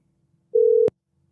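A single steady telephone tone sounds for about a third of a second, cut off by a sharp click, while a phone line is dialed for a call-in; otherwise near silence.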